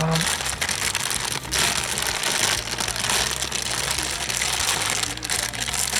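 Plastic bags crinkle and rustle continuously up close, a dense crackling texture with no pauses.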